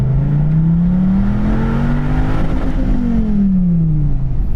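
A Dodge Viper on Kumho track tyres launches from a standstill, its engine note climbing loud and close as it revs up and then easing off near the end, no voices over it.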